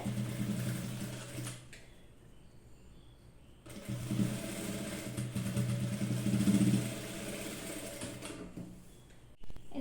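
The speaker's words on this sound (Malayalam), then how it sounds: "നമ്മൾ ഈ സൈഡിൽ സ്റ്റിച്ച് ചെയ്തതിൻ്റെ മുകളിലൂടെ തന്നെ വേണം സ്റ്റിച്ച് ചെയ്ത് കൊടുക്കാനായിട്ട്" A sewing machine stitches a neckline in two runs of rapid mechanical whirring, separated by a quiet pause, close and clear.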